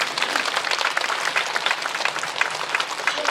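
A Korean church congregation claps loudly and steadily during a prayer meeting, a dense, continuous patter of many hands with no speech over it.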